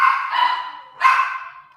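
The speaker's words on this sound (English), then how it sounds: "I'm so sorry for the dog barking." A dog barks twice nearby, two loud sharp barks about a second apart with a slight whine trailing the first.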